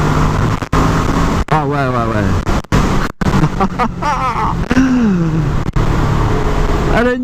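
A Kawasaki ER6N motorcycle accelerates, its engine note rising in steps and cutting out briefly between gear shifts. It sounds close and loud, with wind buffeting, and a rider speaks a few words over it.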